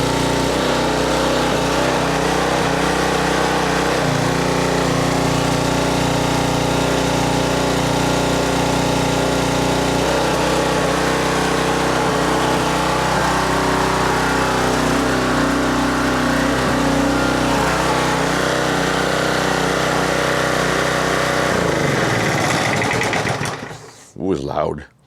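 A Coleman Powermate 2500 portable generator engine runs steadily and loudly at a constant idle with a rattly drone, then cuts off abruptly near the end.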